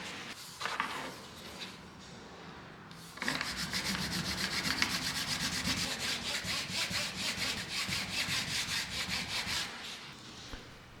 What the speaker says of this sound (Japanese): この部分も彫刻刀で削って、そこにまたハードワックスを充填していきます